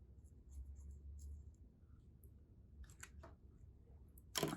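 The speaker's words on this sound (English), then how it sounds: "we'll draw a round eye." A round eye being drawn on a rabbit puppet, heard as faint, close scratching of a pen on a surface, with a few light clicks and a sharper rustle at the end.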